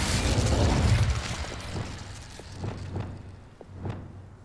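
Incendio fire spell cast in the game Hogwarts Legacy, a fiery burst that fades into scattered pops and mechanical clicks at moderate volume.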